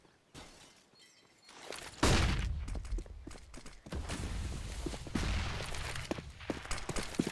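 Auto sniper shots ring out during a Counter-Strike match on Inferno, a few sharp reports followed by bursts of gunfire and clattering in game, loud against quieter footsteps and ambience.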